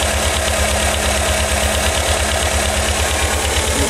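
The air-cooled engine of a 1985 Volkswagen Vanagon, set with late ignition timing, idles loud and close in a steady, even rhythmic thrum with a faint whine above it and no talking.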